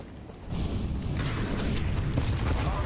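Grenades explode in a Counter-Strike match at a BLAST Premier tournament: a sudden, loud, rumbling blast that swells into a sustained roar of fire and debris.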